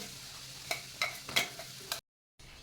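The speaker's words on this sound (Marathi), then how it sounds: "कढई गरम करून घेऊन दोन चमचे तेल घालायचे आहे आणि लगेचच ही वाटून घेतलेली शेंगदाण्याची चटणी घालायची आहे" Ground peanut chutney dropped into hot oil in a kadai gives a low continuous sizzle punctuated by four distinct scraping stirs, then a brief cut to silence before faint frying resumes.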